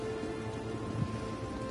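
Steady rain with stormy weather in the Elder Scrolls Online video game, a continuous even patter at moderate level with a faint low rumble underneath and no voices.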